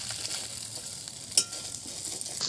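A large fish head frying in oil for a gourd and fish-head ghonto, a steady low sizzle with a brief sharp clink partway through, no talking.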